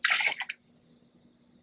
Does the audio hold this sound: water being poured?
yes